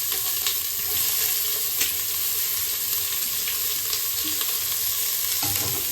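Onions sizzle in hot oil in a pan for coconut milk rice, a steady bright crackling fry with occasional stirring scrapes, close and continuous with no talking.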